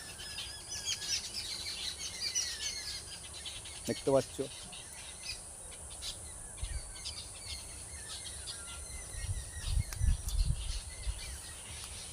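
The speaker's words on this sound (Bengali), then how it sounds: "পাখি ডাকছে" Morning birds singing among trees, faint chirps and tweets scattered through the clip beneath occasional nearby talk and background hum.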